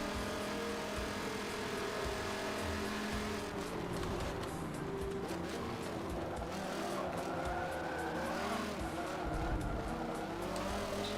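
A Porsche race car in Forza 7 runs flat out, its engine droning steadily at high revs with shifting pitch as it passes through a GT racing circuit, loud and continuous without pause.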